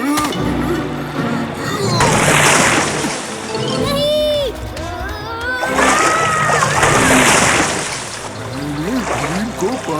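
A cartoon scene in which someone is pulled into water: loud splashes and churning water surge twice amid music, sound effects and excited voices.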